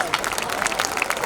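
Crowd applause welcoming a poet at a live poetry event, a short stretch of scattered hand claps over hall murmur, moderately loud.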